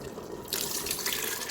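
Water pours steadily into an Instant Pot holding beans for rajma, with a sudden close, rushing splash that starts abruptly and continues without pause.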